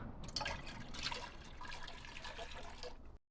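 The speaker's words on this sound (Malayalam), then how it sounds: "നമ്മൾ തിളപ്പിച്ചതിന്റെ ബാക്കി വെള്ളം വരുന്നതും കൂടെ നമുക്ക് ഒഴിച്ചു കൊടുക്കാം" Leftover boiled water pours into a cooking pot for making pidi, a steady close splashing trickle lasting about three seconds before it cuts off.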